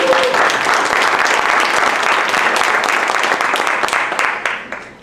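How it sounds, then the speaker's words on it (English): A conference audience breaks into a dense, sustained round of applause that holds steady for several seconds, then thins and fades out at the end. "So let's give them an applause."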